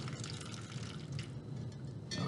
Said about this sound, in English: you can see that water is spilling out of the large beaker